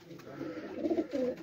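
A flying pigeon on a rooftop loft coos in two or three soft, rolling phrases, close by and alone, growing slightly louder midway.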